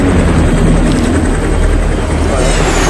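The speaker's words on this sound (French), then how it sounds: "Comme ici par exemple, regardez les hélicoptères." Helicopters flying in action footage from a Siberia setting, a steady loud rotor and engine roar filling the whole clip without letup.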